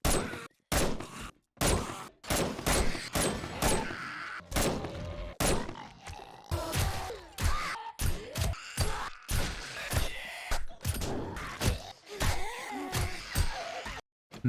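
Suppressed rifle fire in the survival game 7 Days to Die, a rapid series of sharp muffled thuds in irregular bursts with brief silent gaps, close and punchy.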